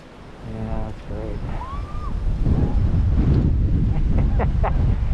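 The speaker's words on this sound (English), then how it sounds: "Yeah, the wind is definitely picking up and people are having a good time out here." Wind gusts buffet the microphone on a park trail near the Cave of Munits in El Escorpión Park, a loud rushing roar building and staying strong throughout, with faint bird chirps and distant voices.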